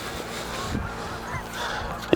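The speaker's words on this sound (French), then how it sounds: "on entend les oies" Geese honk by a river under autumn colours, a few scattered calls rising faintly over steady outdoor background noise, with no one speaking.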